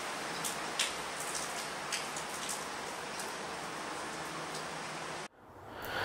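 Rain falls on a wet, rainy day as a dense, even hiss with scattered sharper drop ticks, cutting off abruptly near the end to near silence before a faint return.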